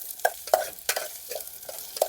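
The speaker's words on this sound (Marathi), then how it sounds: "कांदा थोडासा आता ब्राऊन होऊन द्यावा आपण।" Onion browning in hot oil in a pan for a village-style crab curry, stirred with a utensil in quick scraping strokes over a steady sizzle, close and clear.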